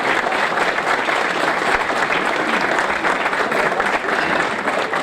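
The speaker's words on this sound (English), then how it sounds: "So let's give them a warm round of applause." Warm applause from the audience at a Winchester Citizen of the Year ceremony, steady dense clapping that fills the whole stretch at a loud, even level with no pauses.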